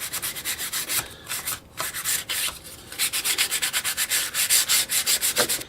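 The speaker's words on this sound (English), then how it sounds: "with a piece of sandpaper to make everything just kind of flow together and deburr it" Sandpaper rubbed by hand to deburr a part for a Cessna 170 build, heard up close as steady, rhythmic back-and-forth scraping strokes that quicken toward the end, with no voices.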